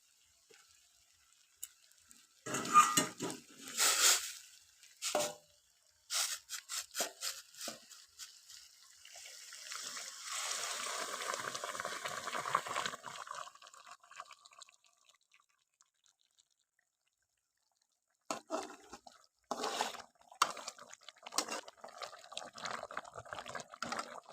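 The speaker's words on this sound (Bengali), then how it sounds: "এবারে আমি গরম জল দিয়ে দেবো" Hot water poured into a pot of browned mutton for a thin curry, with a gurgling, sizzling stream in the middle flanked by dripping and clattering bursts and a short silent gap.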